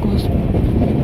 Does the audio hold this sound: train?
yes